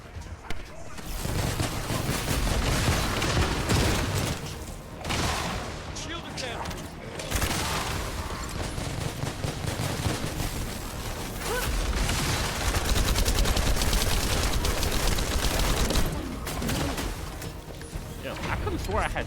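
Dense, continuous gunfire and explosions in the video game The First Descendant, loud and sustained with rapid bursts and booms, while players talk over the action.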